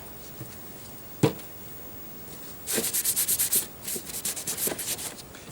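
A cloth rubs black finish onto plywood across the grain, a close rhythmic series of scratchy back-and-forth strokes in two runs after a single knock, with no voices.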